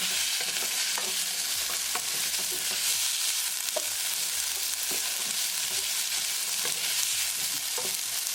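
Onion frying with ginger, garlic and green chili paste for an onion and tomato sabzi, a continuous bright sizzle with occasional soft stirring clicks of a spatula, close and steady with no talking.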